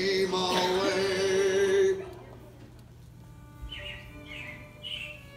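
Robins chirping in the audio of Disney World's Carousel of Progress in Orlando: after loud music ends, three short bright chirps repeat at a steady pace, moderately near, over a quiet room hum.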